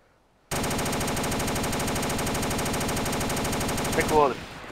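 Sustained rapid automatic gunfire in DayZ, loud and continuous for about four seconds before cutting off, followed by a brief ringing tail.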